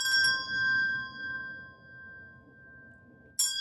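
A bell-like instrument rings out with a long sustained tone that slowly fades, then a fresh metallic strike at the end, close and fairly soft.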